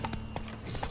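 Roach, a horse in The Witcher 3, sets off with a few quick hoofbeats, loud and close, in a short burst with no voices over it.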